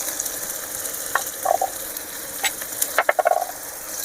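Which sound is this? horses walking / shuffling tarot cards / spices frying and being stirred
spices frying and being stirred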